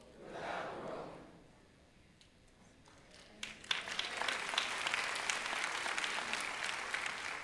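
Church congregation clapping during a sermon, a quiet, murmuring stretch giving way to a swelling, steady round of applause from many hands, moderately distant and continuing to the end.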